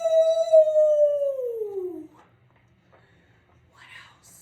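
A voice imitates a desert coyote howl with one long, sustained wavering call that slides downward in pitch and fades out. It is followed by near silence and faint soft vocal sounds.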